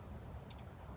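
Small birds chirp in winter by a riverside cliff, a couple of faint, high, quick tweets over a quiet background.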